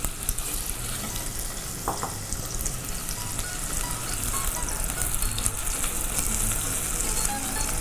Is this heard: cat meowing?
no